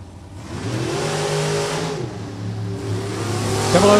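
A Chevrolet Camaro drag car at Maple Grove Raceway drag strip revs its engine loudly up close, the pitch climbing, holding, dipping, then rising again in a steady growl.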